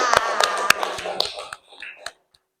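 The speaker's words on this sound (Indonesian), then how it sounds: "Tepuk tangan." Students in a classroom clap their hands after a lesson, a quick burst of sharp, scattered claps close by that thins out and stops within a couple of seconds.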